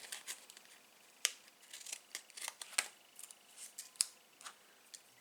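Scissors snipping craft trimmings for a beach-themed carousel card, a series of sharp, close, quiet cuts at an irregular rhythm, with light paper crinkling between them.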